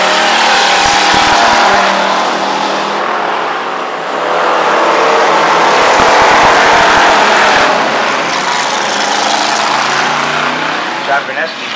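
Stock race cars on a dirt oval during a heat race roar continuously as a bunched field circles the track, engines rising and falling as they pass, with an announcer talking over the steady racing noise.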